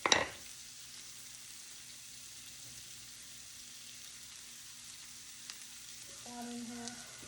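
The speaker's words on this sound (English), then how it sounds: "my onions have kind of gotten soft, and I'm going to add my garlic" Onions and garlic sauté in a pan, giving a faint, steady sizzle throughout, with a brief clatter at the start and a slight swell near the end.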